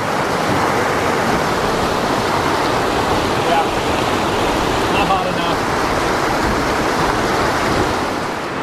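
A creek flows beside warm soaking pools in a volcanic lava landscape, a loud, steady rushing wash of water that fills the whole stretch without pause.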